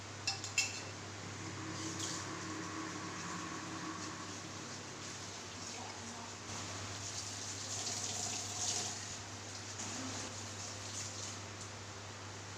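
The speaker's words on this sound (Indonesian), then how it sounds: "Lalu bilas menggunakan air mengalir dan bersih." Steady running tap water rinsing dishes, with light clinks of dishes and cutlery, a continuous wash of sound close by, no voices.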